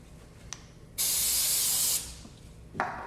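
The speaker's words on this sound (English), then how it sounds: "we can just clean both surfaces with a little bit of brake clean" Brake cleaner sprayed from an aerosol onto clutch taper surfaces of a Can-Am X3 primary clutch, one sharp, close hiss lasting about a second, with a shorter spray burst at the end.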